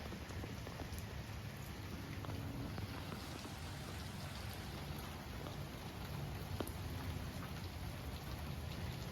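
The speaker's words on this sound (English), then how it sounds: "Raining in Auburn, Alabama." On a Sunday night in Auburn, Alabama, rain drums on a car in a constant close wash of droplets, with scattered sharper drop hits and no pause throughout.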